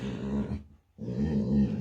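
A dog growls and grumbles close by in two low, throaty bursts separated by a brief silent pause, the second stretch longer and slightly louder.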